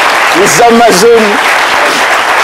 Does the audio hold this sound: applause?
yes